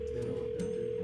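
An outgoing phone call rings unanswered, a steady held ringback tone sounding continuously and fairly clearly over a faint background hum.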